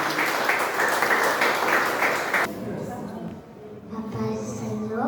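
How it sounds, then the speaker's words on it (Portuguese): A congregation at a church service held in a garage applauds loudly for about two and a half seconds, then stops abruptly. Speaking and singing voices follow. "Você pode aplaudir o Senhor por isso,"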